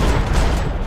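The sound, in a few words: gunshot headshot in a video game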